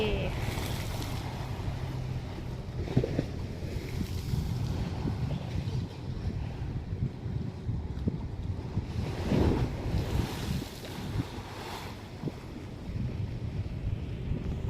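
Surf washing ashore on a Thai beach at high tide, a steady broad wash of waves with wind buffeting the microphone, some swells surging louder around the middle, no talking.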